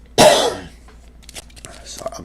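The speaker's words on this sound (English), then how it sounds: "I'm sorry, I keep coughing." One abrupt, loud cough bursts out close to the microphone, followed by faint breathy throat sounds that fade out over the next two seconds.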